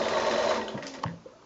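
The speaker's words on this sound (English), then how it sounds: "So I'm now just going to continue on sewing all the way around" Sewing machine stitching around the edge of a quilt, a close steady mechanical whir that slows and stops with a couple of soft clicks.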